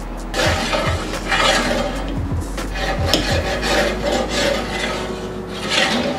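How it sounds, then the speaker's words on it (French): A metal scraper rasps propolis off the tubes of a Wet Thermplate cappings wax melter, making repeated close, gritty scraping strokes in an uneven rhythm with no talk. "On a un grattoir comme ceci et il faut nettoyer"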